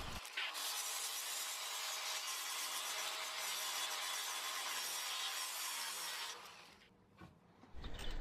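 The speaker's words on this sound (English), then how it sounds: "Then back to the grinder with the flap disc to smooth out that rough surface" An angle grinder fitted with a flap disc smooths the rough surface of a restored Viking axe head, a loud steady abrasive whir that runs for several seconds and then winds down.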